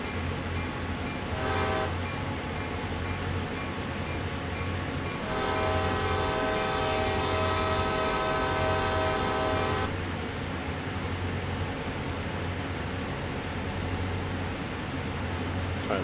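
A diesel train horn sounds at a railroad crossing in Train Sim World's CSX Heavy Haul night service with a GP38-2 locomotive, giving one short blast and then a long sustained blast over a steady engine rumble and track noise.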